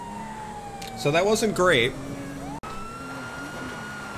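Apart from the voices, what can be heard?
police sirens in video game GTA V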